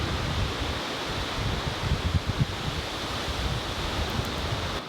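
Strong wind roars through the Colorado mountains during an elk bowhunt, a loud, continuous broadband rush with heavy low gusty buffeting on the microphone and no voices.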